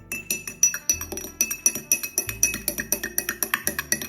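A spoon clinks rapidly against a glass while stirring Vestige body talc powder into water, a quick even run of small bright taps, close and alone.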